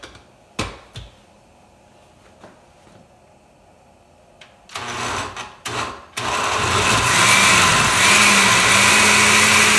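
A kitchen blender grinds bay leaves for menudo. After a few clicks and bumps, the motor starts up loud and close and runs as a steady, whirring grind until the end.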